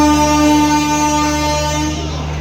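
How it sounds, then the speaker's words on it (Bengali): The Santragachi–Chennai Central weekly AC Express (22807) arriving at a station: its horn blares with a steady, sustained tone, loud and close, over a constant low rumble before it fades slightly at the end. "এই আমাদের ট্রেন ঢুকলো"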